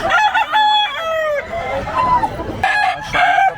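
Fighting roosters crow loudly at a pet market in Bocaue, several long ringing calls overlapping in close succession, with a short pause before two more crows break out near the end.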